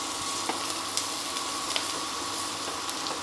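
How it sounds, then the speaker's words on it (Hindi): Ginger garlic paste fries in hot oil while being stirred for a dhaba-style arbi curry: a loud, steady close sizzle with light scraping taps of the spoon at irregular intervals, no voices. "ये अदरक और लहसुन का पेस्ट जो हमने बनाया था वो डाल देंगे। और इन्हें अच्छे से चलाएंगे"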